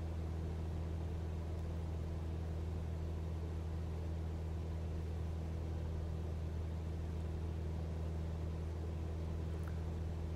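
A Cessna 172 light aircraft engine drones steadily in flight over Pattaya while gaining speed and climbing, a constant close, even hum throughout with no pauses.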